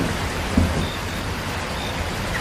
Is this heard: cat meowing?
no